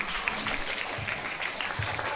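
An audience claps for a children's dance performance at a stage event, a steady moderate patter of many hands lasting throughout, with faint voices underneath.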